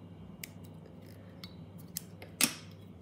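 Small scissors snip a hackle stem at a fly-tying vise, giving a few faint, crisp clicks and one sharper cut near the end, close and quiet with no talk.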